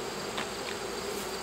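Honeybees from a small colony in a 5-frame nuc hive give a steady, soft, close buzz, with a couple of brief louder passes as individual bees fly near.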